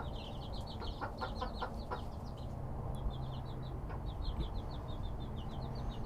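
Bantam Sarama chickens, hens with a small rooster, give a steady run of short, high chirping calls across the whole stretch. A low background rumble sits underneath, and there is no talk.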